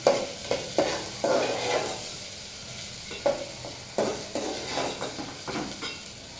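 Mung dal lightly frying in a pan for a mung dal and sweet pumpkin dish, soft sizzling broken by repeated scraping stirs of a spatula, close and moderately quiet, no voices.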